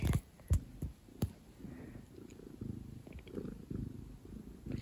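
A cat purrs softly and close by, a low rhythmic rumble with a few louder thumps and small rustles in the early part. There is no speech.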